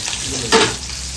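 Onion and garlic fry in a pan in a home kitchen, a steady low sizzle with a short louder burst of hissing and stirring midway, then settling back.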